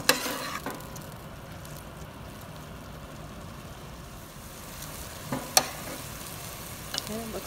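Meat sauce for spaghetti being stirred in a pan over medium heat, a steady soft sizzle with scraping stir strokes, a few sharper clinks of the utensil against the pan near the start and again later.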